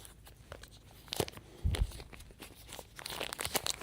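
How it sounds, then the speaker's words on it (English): Plastic packaging around a camera is crinkled and torn open up close, with soft rustles, a louder crunchy rip near the middle and more crackling after. "Where does this plastic bag actually open?"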